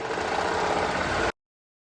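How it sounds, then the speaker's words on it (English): Sewing machine running steadily while stitching side seams on knit fabric at a 3/8-inch seam allowance, a continuous close motor hum for just over a second before cutting off abruptly. "So I'll just sew my side seams,"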